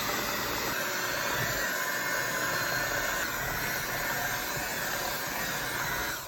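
An electric mixer runs fast and steady through apple cake batter as flour is added, a continuous close whirring drone that holds level and fades at the end.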